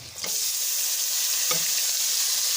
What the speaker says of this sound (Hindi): अब हम इसमें टमाटर डालने लगे।